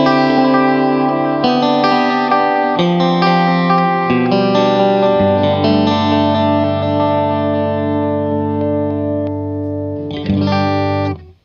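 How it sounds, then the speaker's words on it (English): Electric guitar chords and notes played through a Dawner Prince Boonar Tube Deluxe drum echo pedal, ringing with dense repeats and reverb-like wash, the pitch warbling as the drum speed shifts, loud and continuous before a final burst and sudden cutoff. "you can hear the drums speeding up and slowing down"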